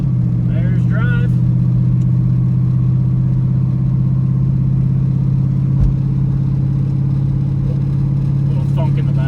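An LS V8 swapped into a Toyota Prius drives on the road, its deep engine drone holding steady and close throughout, with a voice briefly talking over it.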